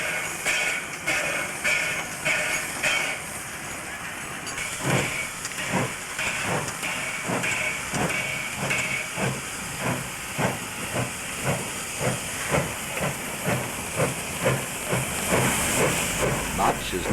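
Steam locomotive 3016 shunts an up Rankin Springs goods train at the Barmedman cattle docks, with loud rhythmic exhaust chuffs repeating steadily under a continuous hiss of steam.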